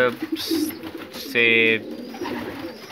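Pigeons in breeding season cooing close by, soft throaty coos with one louder, drawn-out call in the middle, mixed with a person talking.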